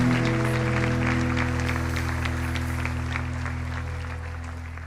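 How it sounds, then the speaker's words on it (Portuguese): A church congregation applauds together in a large hall, producing dense, sustained clapping that holds steady and then tapers slightly, over a low, droning hum of music. "Queria que você desse uma salva de palmas para receber."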